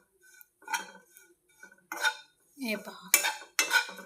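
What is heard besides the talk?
dry-roasting coconut in a pan, stirring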